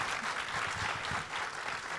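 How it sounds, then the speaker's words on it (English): An audience at an ATX Festival Q&A panel for The Mick bursts into dense, steady applause that fills the room for the whole moment, close and continuous with no voices on top. "let's give them a round of applause"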